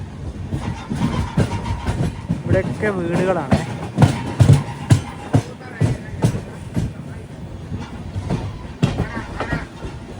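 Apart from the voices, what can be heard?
Mangala Lakshadweep Express train running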